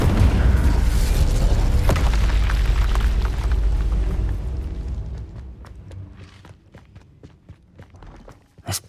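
A fire spell cast in Hogwarts Legacy bursts with a loud, dense roaring whoosh that fades over several seconds, leaving a few faint crackles and thuds at the end.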